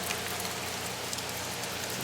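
Steady rain falling during a storm as the wind picks up, a dense even hiss at moderate level with no voices.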